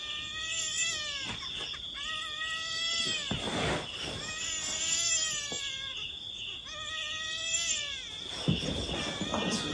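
A cat meows repeatedly in long, drawn-out wails, several calls in a row, loud and close, with a steady high electronic whine behind them.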